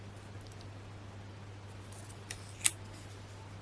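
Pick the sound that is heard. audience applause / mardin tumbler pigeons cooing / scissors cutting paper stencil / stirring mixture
scissors cutting paper stencil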